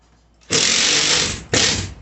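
A power drill drives a screw into a Perlesmith triple floating shelf wall mount, whirring loudly in two close bursts, a steady one-second run, a brief pause, then a second shorter run.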